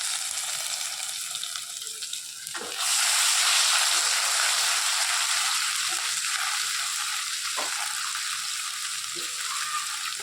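Ginger and garlic fry in a pan with a loud, steady, close sizzle that swells sharply a few seconds in and then holds, with a few faint stirring knocks underneath.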